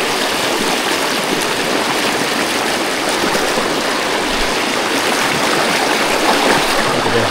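The Dumaka River rushing over rocks, a loud, steady broadband roar of flowing water filling the whole clip without pause, close to the listener and with no voices.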